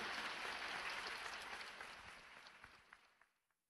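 An indoor lecture audience applauds steadily, the dense clapping fading out over several seconds to a few last scattered claps.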